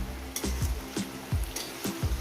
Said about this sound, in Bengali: ভেজে নেবো তিন চার মিনিট চার পাঁচ মিনিট ধরে একটু ভেজে নেব